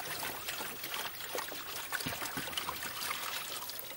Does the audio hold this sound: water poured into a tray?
yes